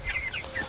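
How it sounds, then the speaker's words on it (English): A backyard chicken gives a few quick, close clucks in rapid succession during a short burst, with no one speaking. "Escape! Escape, Chicken Little!"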